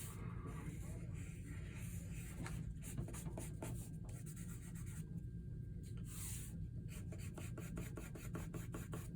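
A pencil rasps across paper in continuous circular shading strokes, a soft, steady scratchy rubbing with rhythmic pulses, heard close and fairly quiet with no talking.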